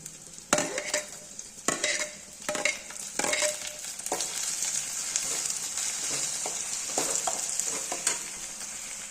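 Onion, green chilli, curry leaves and tomato frying in a pan, a steady hiss of sizzling oil broken by several scraping stirs of a spoon in the first half, close and alone.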